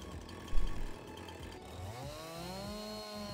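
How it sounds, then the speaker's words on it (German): A chainsaw in a farming video game revs up after a thump, its whining motor rising in pitch and holding steady, close and moderately loud. "Rampa Zampa mit der Kettensäge."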